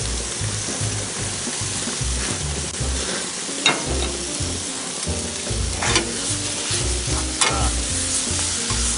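Wild boar steaks fry in a cast iron pan with a loud, steady sizzle alongside charring vegetables, broken by a few sharper pops and crackles, close up and with no one talking.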